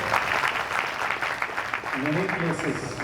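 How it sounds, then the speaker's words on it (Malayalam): An audience at a lecture in Srisailam claps steadily in a dense wash of applause, with a voice speaking over it toward the end. "നമ്മളെല്ലാവരും അവർക്ക് വളരെ ഉച്ചത്തിലൊരു കയ്യടി കൊടുക്കണം"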